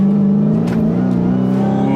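A 2021 Dodge Charger SRT Hellcat Redeye Widebody accelerates hard, its engine giving a loud, sustained droning roar with a steady high whine held throughout, heard from inside the car.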